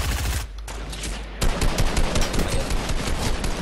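Rapid automatic gunfire in Fortnite, dense loud bursts of shots with a brief pause before a renewed sustained volley.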